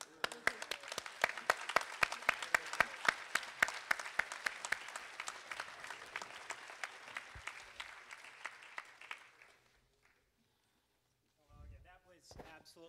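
An audience claps after a debate at a Silicon Valley Oxford Union event, crisp distinct hand claps from a modest crowd fading out, followed by a voice talking.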